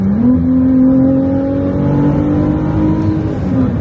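A Ferrari 296 GTB engine, 830 horsepower, revs up loudly close by, pitch climbing steadily then holding at a high, rough roar throughout the short stretch.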